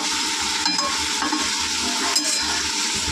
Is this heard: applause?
no